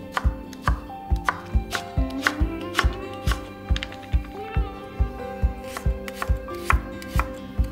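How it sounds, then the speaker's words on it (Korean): A knife slices cucumber into thin julienne strips, its core cut out after peeling it in a spiral, tapping a cutting board in a steady, fast rhythm of close, crisp chops with no talking. "오이는 물이 많이 나오는 심지를 빼고 사용하기 위해 돌려깎기를 해서 얇게 채 썰어줬다."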